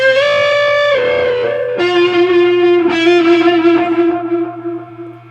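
Distorted electric guitar solo in a cover song, passed through a Carbon Copy analog delay with reverb, sustained bending notes trailing into echoing repeats that fade out near the end.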